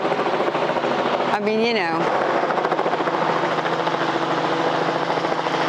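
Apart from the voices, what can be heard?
helicopter flying over a campground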